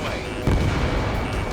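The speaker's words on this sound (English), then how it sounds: "Missile away." Missile launch from a fighter jet in Ace Combat 7, a sudden loud whooshing blast that jumps in partway through and roars on briefly, with a voice speaking over it.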